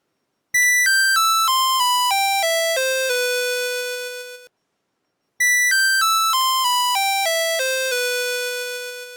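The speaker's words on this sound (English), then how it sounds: "Celesta." Celesta voice on a Casio PT-82/PT-87 keyboard plays a quick descending run of bright, bell-like notes that ring out and fade, then the same run repeats after a short silence.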